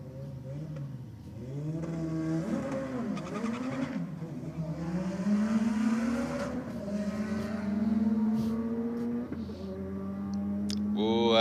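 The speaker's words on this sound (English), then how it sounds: "I've got Kiara or Jembad behind the wheel of the Fairlane. Taking on King 2 litre, which has struggled a little bit for a bit of traction." A Ford Fairlane drag car launches and races down the strip against a 2-litre rival, its engine rising through revs with gear changes, loud and steady throughout with a brief burst at the end.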